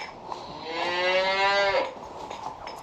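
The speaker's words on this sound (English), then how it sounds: "So right now I'm milking 2 cows, Butter and Josie" Cows on a farm, milk cows named Butter and Josie, give one long, loud moo lasting over a second, rising and then fading, up close against quiet surroundings.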